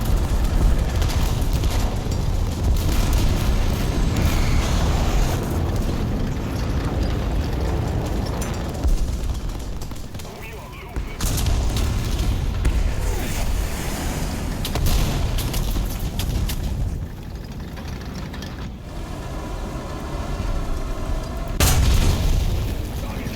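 Conqueror tank cannon fired in War Thunder, with heavy booming blasts over continuous loud engine and battle rumble, a few sharp reports standing out near the end.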